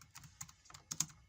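Quiet, close typing on a computer keyboard: a short burst of separate key clicks in an uneven rhythm, with a couple of sharper keystrokes near the end.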